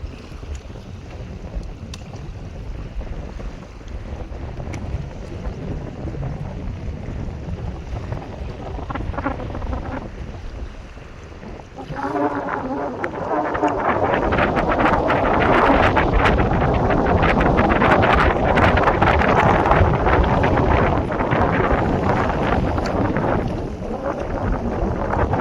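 Strong wind at sea buffets the microphone aboard a small fishing boat out for crabs, a low roaring rumble that swells louder halfway through and stays gusty and constant, with no talking.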